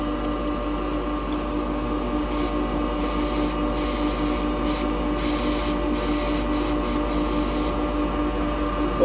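Red spray paint hissing from an aerosol can in bursts, a few short sprays in quick succession near and fairly loud over a steady background hum.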